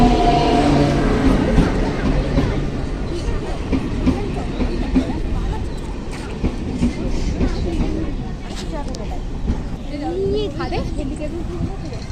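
A passenger train runs with a loud rumbling rattle and rhythmic clatter of wagons, heard from inside the carriage with people chattering nearby throughout.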